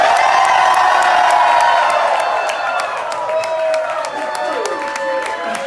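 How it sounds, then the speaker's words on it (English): A large crowd at an LGBT town hall event screams, whoops and cheers in one long loud burst, with applause and shouts blending together and slowly easing off toward the end. "I'll nod, and then you guys just all like scream."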